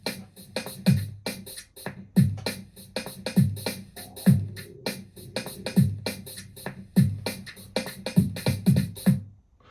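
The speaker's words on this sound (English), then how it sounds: "I found a drum sample here to kind of keep me with the rhythm" Drum sample loop played as a rhythm guide, steady repeating pattern of kick thumps and crisp hi-hat ticks about every second, dry and fairly quiet with no voice.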